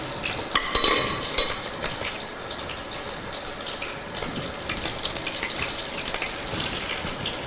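Salted salmon fillet sizzles in a frying pan with a steady bright hiss, a few clatters near the start, and no talking.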